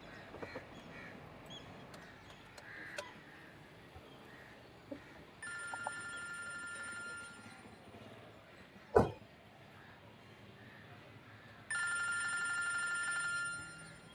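A telephone rings twice in separate electronic bursts, with a quiet room and a single sharp thud between the rings.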